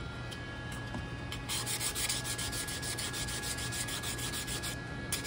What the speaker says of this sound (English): you can usually tell when you're sanding down to a corner because the sanding kind of changes the color of the wood slightly